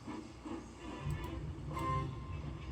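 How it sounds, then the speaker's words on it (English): A steam engine train puffing away in a children's story parody, rhythmic chuffs under a low rumble with a faint high whistle-like tone, fairly close and steady. "Alicia Botti boarded the train, and Percy steamed away."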